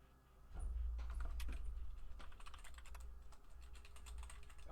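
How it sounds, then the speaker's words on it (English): A loud computer keyboard clatters with bursts of quick, close keystrokes and a few sharper taps in a quiet room, with no one speaking. "Oh no, I hear typing."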